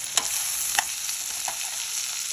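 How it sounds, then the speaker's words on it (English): Peppers and onions sizzle and brown in a pan, a dense continuous hiss with a couple of sharp pops near the start, close up and with no voices. "Now that the browning process has begun on the peppers and onions"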